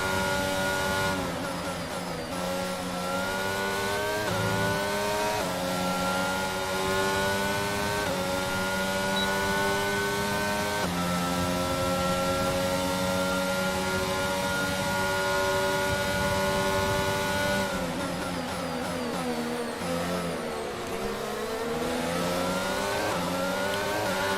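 Formula 1 race car engine in the F1 22 video game at Saudi Arabia, screaming at high revs with constant upshifts and downshifts, loud and sustained with no pauses.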